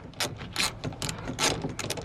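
A ratchet with a 10mm socket clicks in short quick bursts, close up and crisp, while bolts securing a Chevy Bolt side mirror to the door frame are tightened.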